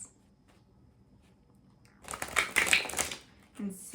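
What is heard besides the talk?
shuffling a tarot card deck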